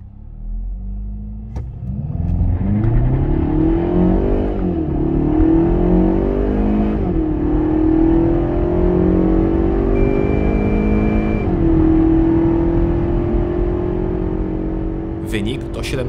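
A KIA ProCeed GT 1.6 T-GDI with 204 horsepower accelerates hard from a standstill, its engine note climbing steadily in loud, rising sweeps broken by several brief dips at gear changes.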